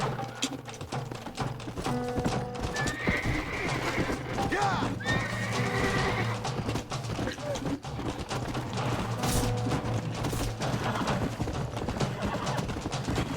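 A horse in the Red Dead Redemption video game whinnies loudly, with clip-clopping hooves running underneath and faint voices in the background.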